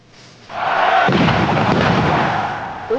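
Firecracker blast at a football match: a sudden loud, close boom swelling into a sustained, rumbling roar that holds for a couple of seconds before fading, with a small pop at the end.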